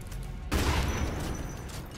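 A burst of gunfire in the shooter game Homefront: The Revolution, a sudden loud rattle that starts abruptly and rings out over about a second and a half of dense, noisy crackle.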